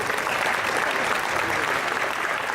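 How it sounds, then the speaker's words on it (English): Guests at an alumni spring reunion banquet give the University Singers choir another round of applause, a loud, dense, continuous clapping from a full room that stays even throughout. "Please give them one more round of applause."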